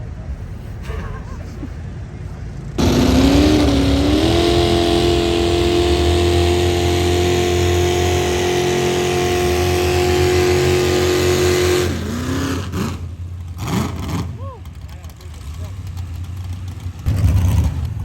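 A big pulling tractor engine at a night tractor pull roars up and holds a loud, steady revving drone for several seconds, then drops away to lower rumbling and mixed background noise.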